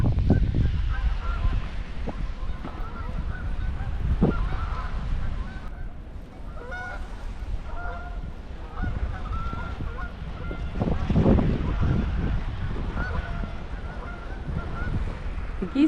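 Geese honking outdoors near a lighthouse on a windy winter shore, scattered honks at moderate distance over steady low wind rumble.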